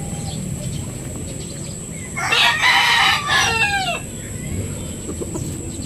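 Filipino farm chickens with hens nearby: a rooster lets out a single loud, close crow midway through, rising and then trailing off, over a steady background hiss.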